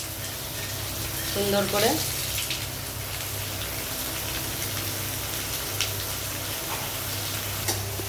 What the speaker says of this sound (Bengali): এটাকে একটু ভালো করে বাটারে নাড়াচাড়া করে নেব